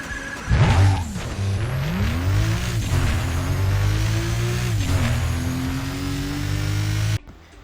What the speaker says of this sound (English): Just listen to that turbo.